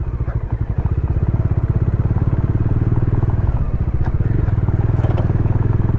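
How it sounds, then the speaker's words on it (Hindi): A motorcycle rides along a rough village road in Bihar, its engine thumping in a fast, even pulse with rattles and crunching from the bumpy surface, loud and close for the whole stretch. "मैं बाइक से जा रहा हूँ"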